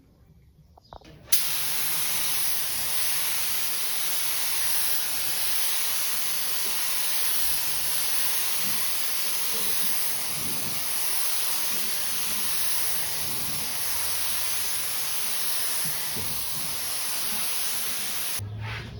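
Rust-Oleum spray paint hissing steadily from a can during a second coat, a continuous close, even spray lasting most of the clip after a brief start, with no talking.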